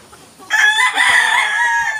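A Boston Roundhead gamefowl rooster crows loud and close, one sustained cock-a-doodle-doo lasting over a second with a brief break partway through.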